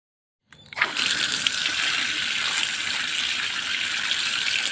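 Water gushing steadily from an outdoor pipe while hands are washed under it, a loud continuous splashing stream that starts abruptly after a brief silence and runs alone to the end.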